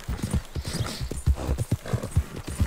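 A horse galloping in the video game Red Dead Redemption 2, with quick rhythmic hoofbeats that stay close and fairly loud throughout and no voices over them.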